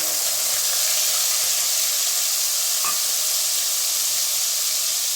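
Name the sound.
onion paste sizzling in hot oil in a wok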